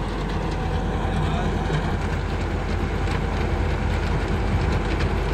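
A tractor-driven rotavator runs steadily in second gear on a 21 model, giving a loud, continuous engine and machinery roar with no pauses throughout.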